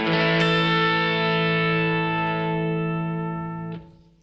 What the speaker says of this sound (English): Can you hear the vibrato in that amp?